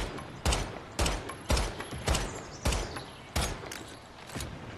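Gunfire in the video game Once Human: six or seven loud, sharp shots spaced roughly half a second to a second apart, each with a short ringing tail, no talking.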